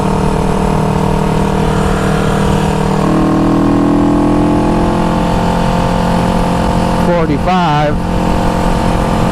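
A 1974 Honda CB360 motorcycle in need of maintenance runs at speed, its engine a steady loud drone under heavy wind rush, with a brief rising whine near the end and someone speaking briefly.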